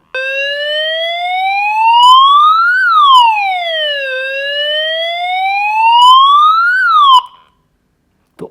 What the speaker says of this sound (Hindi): तो आपके एक ही सर्किट में 3 अलग अलग सायरन है, जो सारा कमाल है इस IC का।